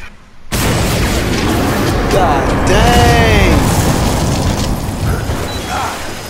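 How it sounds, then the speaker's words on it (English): In the video game Metal Gear Solid V, a sudden loud blast opens into a sustained roaring rumble with crackling debris, while a man briefly exclaims over it. "Explosions."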